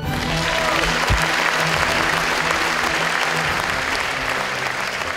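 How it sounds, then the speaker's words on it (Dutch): Warm audience applause at a party anniversary event greets Marianne Thieme as she takes the stage, a dense and steady wash of clapping from a large crowd that holds at a constant level throughout. "graag uw warme applaus voor niemand anders dan Marianne Thieme"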